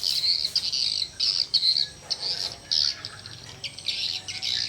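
Swiftlets fly close by, giving rapid, repeated high chirps and squeaky calls in quick bursts, loud and near, with no voices.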